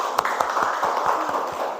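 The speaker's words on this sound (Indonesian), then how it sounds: "Beri tepuk tangan untuk kelompok 1." Students in a classroom clap for the first group after its presentation, a steady patter of many hands that runs evenly through the short stretch at moderate loudness.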